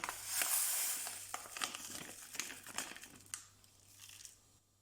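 Close, quiet rustling as cherry jelly powder is poured from a crinkling packet into a cup, a soft granular hiss lasting a few seconds.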